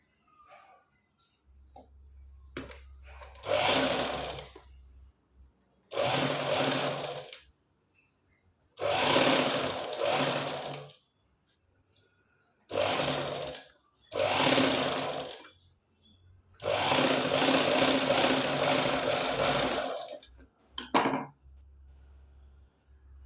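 Sewing machine stitches a sleeve onto a garment in several separate bursts of close, steady whirring broken by short pauses; no one speaks.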